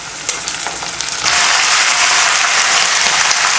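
Chicken pieces dropped into hot oil with softened onions and curry leaves, setting off a sudden loud, steady sizzle after a quieter crackle of frying.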